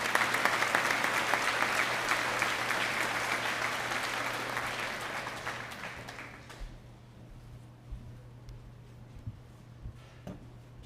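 Applause from a graduation audience for the school band, loud and dense at first, then fading out after about six seconds into scattered claps and small room noises.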